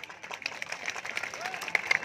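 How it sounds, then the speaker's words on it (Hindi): A crowd at a wrestling dangal claps in a loose, scattered burst of hand claps, fairly faint and uneven over about two seconds, with voices mixed in underneath. "आप लोग जोरदार ताली बजाइए"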